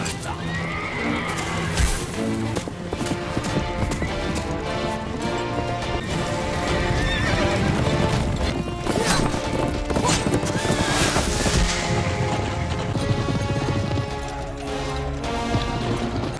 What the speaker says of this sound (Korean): 하지만 반란군도 창부대와 기마병들이 출격합니다